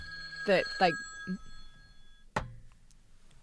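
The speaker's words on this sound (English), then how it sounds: "Amateur hour. That was my phone for everyone listening." A mobile phone rings with a couple of tonal electronic chimes under and between speech, followed by a sharp clack as it is handled and silenced, in a quiet room.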